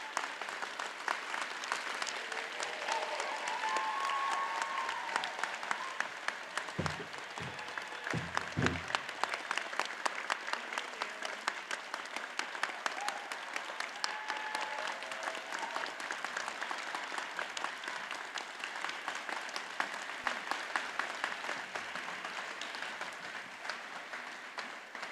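A long stretch of applause from a commencement audience, dense and continuous with a few whoops early on, steady in level and somewhat distant, as if heard from across a large hall.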